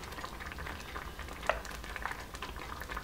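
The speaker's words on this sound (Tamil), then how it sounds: "பருப்பு ஆட் பண்ணதுக்கப்புறம் நல்லா கொதி வர ஆரம்பிச்சிருச்சு" Sambar with dal and ground coconut paste bubbling in a pot, a low steady simmering gurgle with soft pops and small liquid bursts throughout, heard close with no talking.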